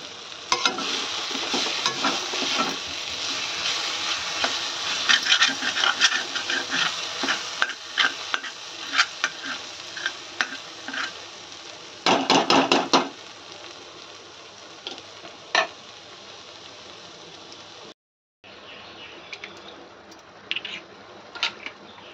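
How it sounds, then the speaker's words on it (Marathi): Eggs stirred into hot oil in a pan over a low gas flame: continuous sizzling broken by irregular stirring clatter and a burst of scraping around the middle, with a brief dropout near the end. "आता या प्रोसेसला आपल्याला याच्यामध्ये अंडी मिक्स करायची आहे"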